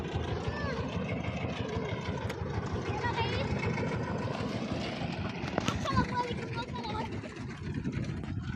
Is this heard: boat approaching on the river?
yes